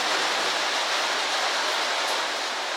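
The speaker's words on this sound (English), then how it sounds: "I hope you can still hear me over all this rain and everything." Heavy rain pouring down in a steady, dense hiss that fills the whole stretch evenly, loud and close, with no voices.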